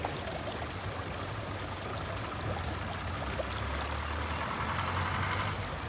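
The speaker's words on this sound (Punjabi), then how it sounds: "ਸਾਫ ਪਾਣੀ ਜਿਹੜਾ ਪਹਾੜਾਂ ਦੇ ਉੱਪਰੋਂ ਆਉਂਦਾ ਬਰਫ਼ ਪਿਘਲ ਕੇ" A clear mountain stream of melted snow water in Lolab Valley, Kashmir, rushes steadily and close by, a continuous broadband wash of flowing water with no break and no voices.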